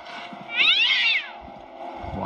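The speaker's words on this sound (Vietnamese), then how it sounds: "Wow, có một con mèo." A cat meows in the horror video game Slendrina, one drawn-out rising and falling cry heard alone against a quiet hum, followed by soft faint knocks.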